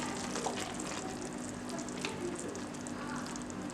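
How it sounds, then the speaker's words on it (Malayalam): Roasted semolina being added a little at a time to boiling water while it is stirred, giving a soft, continuous bubbling sizzle with faint scraping, quiet and steady throughout with no voices. "ഇനി നമുക്ക് റവ കുറേശ്ശായിട്ട് ഇട്ട് ഇളക്കി കൊടുക്കാം."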